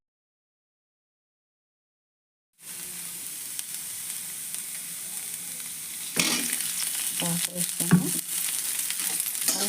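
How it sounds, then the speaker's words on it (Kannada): Cauliflower fries in hot oil for a North Karnataka-style palya. The sizzle begins abruptly after a few seconds of silence, then crackles steadily up close, with louder scraping stirs midway and a single brief spoken word. "ಎಣ್ಣೆ ಹಾಕಿ ಹುರ್ಕೊಂಡಿದ್ದೇವೆ"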